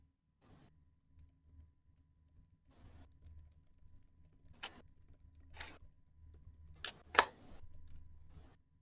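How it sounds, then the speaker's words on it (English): Quiet, sparse keystrokes on a computer keyboard come in short bursts with pauses between, ending in a few louder clacks, close but faint with no voices. "I'm gonna type this out"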